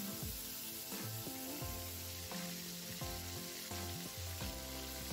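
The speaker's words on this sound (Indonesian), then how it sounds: "ini bumbunya kita tumis sampai harum dan layu" Spice paste sautés in oil in a pan with a continuous soft sizzle, heard faintly beneath steady background music.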